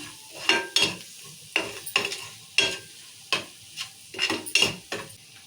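Spoon stirring chili powder into a simmering egg curry in a pan, with a series of distinct scraping strokes in an uneven rhythm, close and fairly loud over a soft sizzle, no voices.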